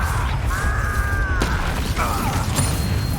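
An Accio spell from Hogwarts Legacy sounds as a loud magical effect of whistling, sweeping tones over a low rumble, broken by a sharp crack midway and a second warbling swell near the end.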